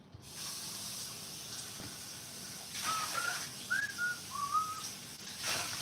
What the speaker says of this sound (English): I'm not the best whistler, but I've gotten a lot better.